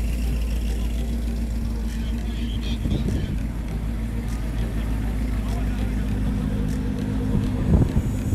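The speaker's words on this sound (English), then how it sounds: "Check out more of these cars coming in." Cars roll into an outdoor Cars and Coffee show at Fort Adams on a cold, windy day, a steady drone of engines and tyres passing nearby with wind buffeting the microphone throughout.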